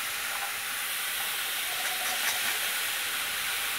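Grated radish ghonto cooking slowly in a pan over low gas, a soft continuous sizzle and hiss throughout at moderate distance.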